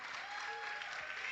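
Steady audience clapping greets the bronze medal winner at a 2023 NAPF regional championship in the Cayman Islands, a continuous dense applause from a crowd heard at moderate distance.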